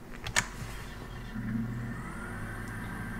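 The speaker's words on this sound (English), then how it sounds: "So now you can see here when I start up my engine" An aircraft engine starting up in Microsoft Flight Simulator: a sharp click at the start, then a steady mid-pitched engine drone that swells slightly and holds evenly to the end, with no talk.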